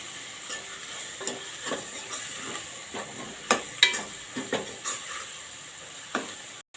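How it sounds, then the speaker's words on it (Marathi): Steady oily sizzle with a low hiss throughout, broken by scattered soft taps and scrapes of stirring spices tempering in oil in a pan for dal palak. "फोडणी जरा चांगली तेलावर परतून घेऊया"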